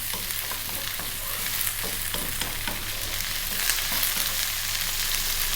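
Vegetables for an Indian vegetarian rice dish stir-fry in a hot pan, giving a steady close sizzle with irregular scraping and stirring clicks throughout and no talking.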